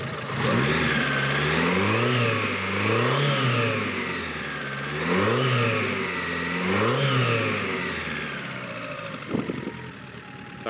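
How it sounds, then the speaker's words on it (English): A Toyota Corolla 2E engine revs repeatedly in rising and falling sweeps, several close blips in a row before settling back toward idle. "once you give it a bit of a rev, you can kind of hear this thing."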